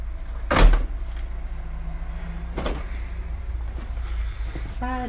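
A door opens in a house under renovation: one loud close thump and rattle at the start, then fainter knocks and creaks against a steady low background rumble, with no talking.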